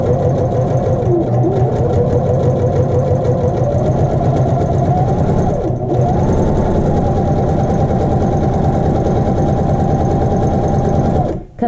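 A sewing machine runs steadily and close while stitching a lapped zipper, a fast continuous mechanical whir with rhythmic needle chatter that barely pauses before stopping at the end.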